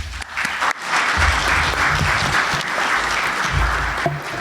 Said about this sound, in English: So with that, everyone give a round of applause for Tina.